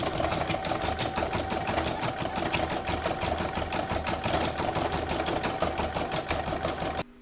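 An embroidery machine stitches appliqué Christmas lettering on a Santa in-the-hoop design, giving a steady, fast, close-up mechanical chatter with an even rhythm that runs for the whole clip before stopping abruptly.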